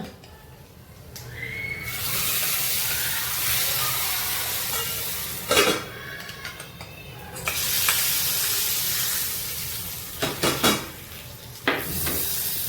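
Spices sizzle steadily in hot oil for tempering, for a veg thali. A metal spoon scrapes and clinks against the pan now and then, close and fairly quiet.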